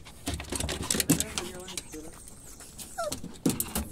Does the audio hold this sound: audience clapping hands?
no